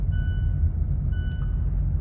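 A Mazda CX-5 2.2 diesel engine idles while warming up with a steady low rumble, joined by a faint high tone and a brief click near the end.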